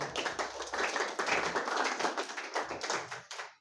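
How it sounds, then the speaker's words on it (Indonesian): Audience clapping after a group presentation in a classroom lesson, a dense, steady patter of many hands lasting several seconds and tapering at the end, with no talk over it. "Kita apresiasi dengan tepuk tangan."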